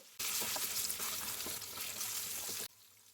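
Oil sizzles loudly and steadily in a hot pan while frying for an egg bhuna breakfast, a dense continuous hiss that starts abruptly and cuts off just as suddenly, with no talking.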